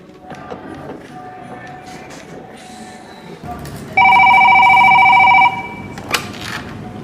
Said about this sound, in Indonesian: saya akan segera telepon bagian keuangan juga bagian gudang